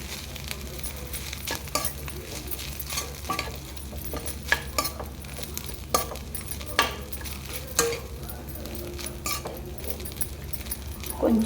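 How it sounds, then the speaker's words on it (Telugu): Veg fried rice stirred quickly in a pan, with a rapid series of metal spatula scrapes and clinks over a faint steady sizzle. "నాకు ఫాస్ట్గా తిప్పాలండి ఇప్పుడు, లేదంటే అడుగంటేస్తుంది"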